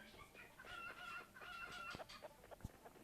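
Several chickens in the video game Stick Man Party cluck in quick, overlapping bursts, fairly close, with a steady synthetic hum beneath them and no talking.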